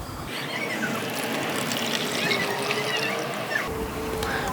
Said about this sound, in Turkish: İndi bu süzülə-süzülə bunun yanında bu qarışıq tiplerin suyunu da süzəcəm.